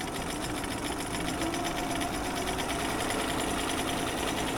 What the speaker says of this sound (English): so now I'm stay stitching exactly on the 1/4 seam allowance